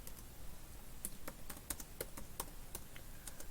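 Keyboard keys clatter in quick, uneven bursts of crisp taps as a search term is typed into a web page, fairly close and alone with no talk.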